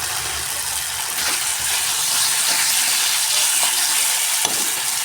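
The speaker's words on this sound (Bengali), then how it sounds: "তো মশলার সঙ্গে ডালটাকে ভালো করে কষিয়ে নিয়েছি" Soaked chickpea dal fries with spices in a pan, a loud close sizzle and crackle with scraping stirring strokes running steadily throughout, no talking.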